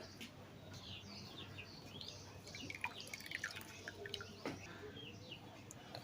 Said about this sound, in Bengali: অবশ্যই কিন্তু পানিটা ঝরিয়ে নিতে হবে